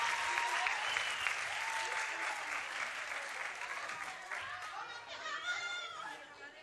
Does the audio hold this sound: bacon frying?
no